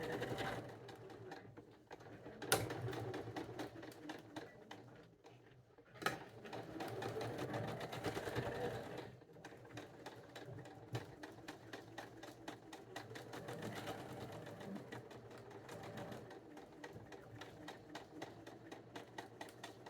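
Sewing machine stitching together the first two rows of a quilt, a steady motor whir running in long bursts with brief pauses and a couple of sharp clicks, close and fairly quiet.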